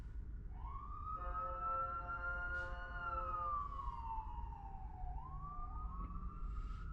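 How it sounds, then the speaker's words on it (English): Ambulance siren in city traffic, a wailing tone rising and falling in long sweeps over low road rumble, moderately distant and heard from inside a car, with no talk. "Got an ambulance coming."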